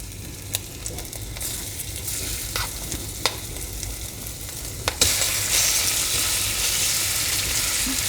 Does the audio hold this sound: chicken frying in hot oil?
yes